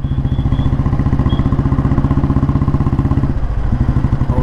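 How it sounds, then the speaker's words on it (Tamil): A 1957 vintage Royal Enfield Bullet G2 motorcycle climbs in top gear, its single-cylinder engine making a loud, close, rapid and even thumping beat that runs without pause. "இன்ஜினே இடிக்கலை, லைட்டாக இடிக்குது"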